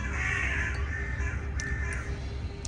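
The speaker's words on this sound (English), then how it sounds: "The bird wanted to say hi too" A crow caws outdoors in a few brief, fairly loud calls over steady low background rumble.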